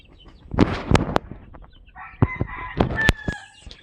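Gamefowl chickens outdoors, with a few sharp clucks and flaps early on and then a rooster's drawn-out crow rising clearly above them at moderate distance.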